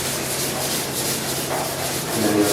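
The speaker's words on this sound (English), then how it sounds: "Sand the entire panel here with some 6." Steady scratchy hiss of 600-grit sandpaper worked across a car body panel before spray painting, continuous and close.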